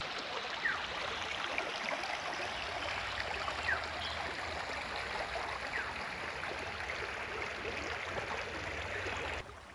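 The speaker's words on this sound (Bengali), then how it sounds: "আর একদম সামনেই নদী রয়েছে।" The Satguru river at Keshra in Purulia flows with a steady, even rushing and gurgling of water, heard up close and on its own with no voices.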